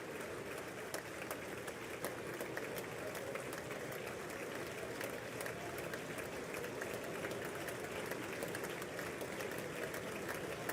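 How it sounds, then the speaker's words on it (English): Steady, dense applause fills the chamber at the 2020 State of the Union address, a large crowd clapping continuously and evenly throughout with no pauses. "Nancy Pelosi is clapping for him."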